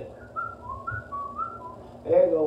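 A preacher imitates whistling with his voice, a short wavering tune of a few notes lasting about two seconds, followed by a burst of crowd or voice noise at the end.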